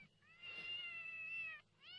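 A cat meows in one long drawn-out wail, then begins a second cry, close and clear over a low background hum; the cats are kept in a cage.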